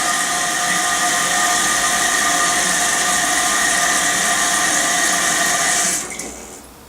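Toilet flushing after its flush valve rod was adjusted, a loud, steady rushing of water lasting several seconds before quickly dying away; nobody speaks.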